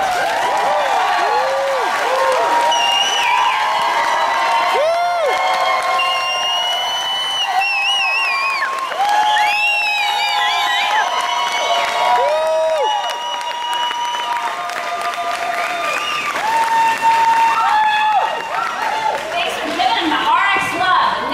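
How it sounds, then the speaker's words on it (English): Audience applause and cheering at a corporate partnership event, loud and sustained for about twenty seconds, with a crowd clapping under prominent music and amplified voices. "Another round of applause."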